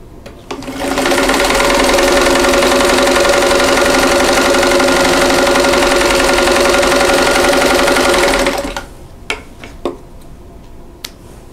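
A sewing machine stitches a quilt block for an Aunt Addie's Album pattern, running in one steady, loud burst for about seven seconds before stopping, followed by a few scattered light clicks.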